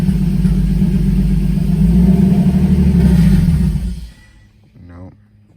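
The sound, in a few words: BMW E30 M52 24v turbo engine revving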